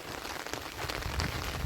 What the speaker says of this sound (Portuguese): é o dia todo de chuva